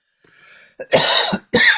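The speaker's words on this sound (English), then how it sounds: "I'm coughing like crazy" Several harsh, close coughs in quick succession after a brief muffled stir, with short pauses between the bursts.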